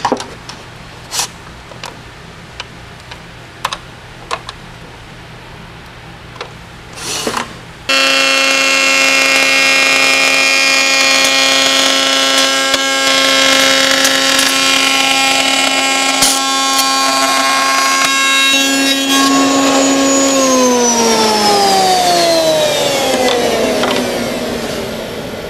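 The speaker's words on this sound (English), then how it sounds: "panel as I run it through the router bit" A router fitted with a raised-panel router bit cuts a cabinet door panel, starting with a few scattered knocks, then a loud, steady, high-pitched whine that runs for around fifteen seconds before the pitch drops as the cut ends.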